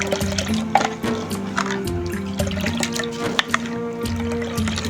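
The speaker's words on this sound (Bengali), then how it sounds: "চিনিটা দিয়ে আমি নাড়তে চাড়তে থাকবো যাতে করে চিনিটা গলে যায়" Sugar is stirred into milk with sabudana for mohabbat sharbat, a steady liquid swirl with faint ringing, sloshing tones and light spoon taps, close up and without talk.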